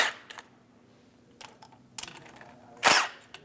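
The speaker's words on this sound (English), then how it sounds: "Using a 10mm socket, we're going to loosen the two bolts at the top." A 10mm socket wrench loosening the upper bolts on the door of a 2001-2006 Chevrolet during window regulator work, heard as a few sharp metallic clicks and ratchet snaps spaced apart, with one louder clack near the end.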